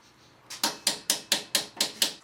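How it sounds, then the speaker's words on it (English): A hammer strikes car parts in a WRX garage during a wheel and coilover swap. There are seven sharp metallic hits at a steady, even rhythm, each ringing briefly, and no voices are heard. "And here's this guy hitting stuff with a hammer."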